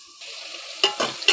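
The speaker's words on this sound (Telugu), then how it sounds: "టమాటాలు ఇలా బాగా వేసుకుని మగ్గ పెట్టుకోవాలి" Tomatoes for cauliflower curry cook in a pan, with a soft simmering sizzle broken by three quick stirring scrapes up close.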